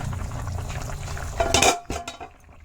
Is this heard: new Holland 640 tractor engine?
no